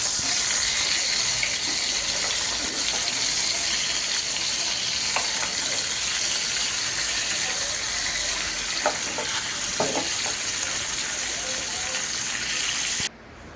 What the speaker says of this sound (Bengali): আর এখানে আমি মাছগুলো ভেজে নিচ্ছি।